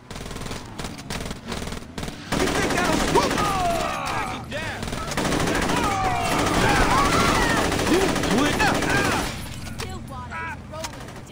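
Rapid, repeated gunfire from a gun in the Saints Row video game, loud and sustained in dense bursts for most of the stretch, mixed with chaotic game noise and indistinct voices before tapering off near the end.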